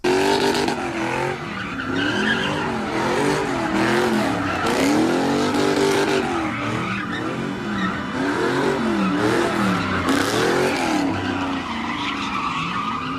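Cars doing stunts on a blocked-off bridge in California, with engines revving and tires squealing continuously, loud and close without a break.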